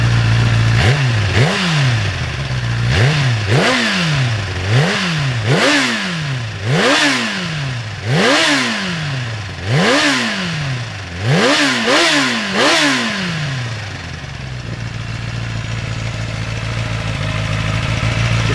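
A Kawasaki ZX10 sport motorcycle is revved repeatedly from idle, about ten sharp rising blips that fall back quickly, loud and close, before settling to a steady idle with no talk.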